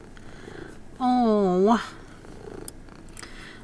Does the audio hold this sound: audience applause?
no